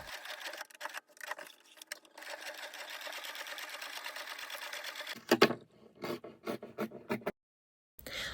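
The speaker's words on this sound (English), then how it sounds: "I sewed it to the bottom of my glove fabric and sewed the outline of the glove" Sewing machine stitching cording onto doll glove fabric; a close, fast mechanical whir runs for several seconds, then breaks into short bursts and stops with a brief silence near the end.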